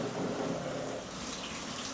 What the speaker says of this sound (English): and these are pretty thick raindrops